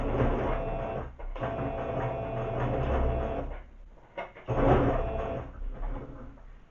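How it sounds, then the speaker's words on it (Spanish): A sewing machine runs in a sustained whirring drone while stitching a folded fabric edge, stopping briefly twice and starting again, close and fairly loud with no talk. "Vamos a rematar y vamos a coser"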